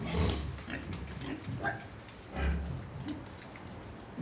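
Small newborn piglets from a litter of four grunting and squealing softly against a rustling, rain-like background on a small farm, the calls scattered and close by.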